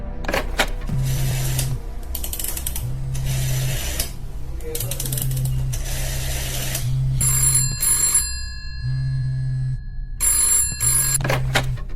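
An old-style telephone bell rings repeatedly in bursts, loud and close, with mechanical clicks and a brief tone between rings.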